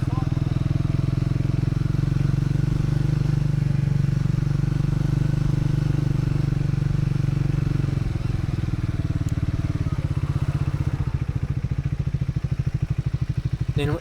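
A Triumph motorcycle climbing a winding ghat road, its engine a loud, steady, close drone with a rhythmic throb that shifts and roughens toward the end.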